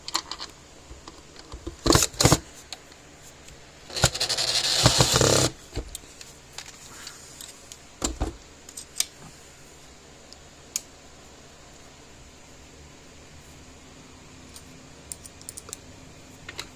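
Back cover being screwed onto a Stafix X6i electric fence energizer during repair: a few sharp clicks and clatters, then a longer scraping burst of handling, followed by sparse light taps that thin out into near silence.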